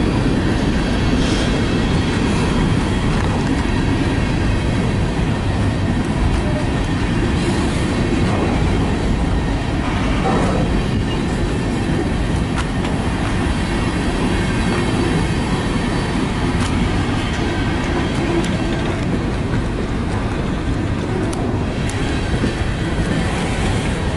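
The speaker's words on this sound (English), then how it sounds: "BNSF train" A BNSF freight train rolls past in Fostoria, Ohio, a loud, continuous broadband roar and rumble of cars on rails with occasional faint wheel squeal, steady throughout with no talking.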